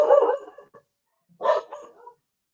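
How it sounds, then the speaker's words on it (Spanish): A pet dog barks nearby in two loud bursts, a rough yapping bark, then a short pause, then a second bark with a brief trailing yelp; no talking. "Qué pena, pero mi perro está saludando al vecino."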